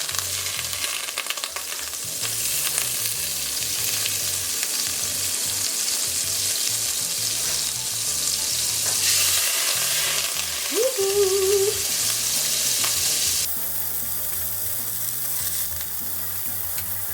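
Half a stick of butter melts in a hot pan for lobster and crab mac and cheese, a steady close sizzle and crackle running unbroken, easing slightly toward the end.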